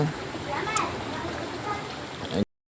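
Floodwater rushing and splashing in Calayo, Nasugbu, a steady broadband wash of flowing water, fairly close and continuous, with a voice talking over it and a brief splash near the end before it cuts off.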